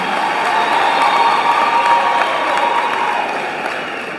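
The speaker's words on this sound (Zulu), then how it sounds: "Angicela nje ke sishayele ihlombe ezitheku namhlanje." A crowd at an EFF political rally in eThekwini claps and cheers in sustained, dense applause that stays loud and even, then fades slightly at the end.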